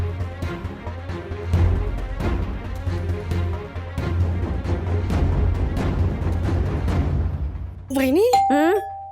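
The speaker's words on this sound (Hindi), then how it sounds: "घंटी बज रही, दरवाजा खोल" A doorbell rings with a bright electronic ding-dong chime near the end, loud and clear, after a stretch of background music and voices in a home.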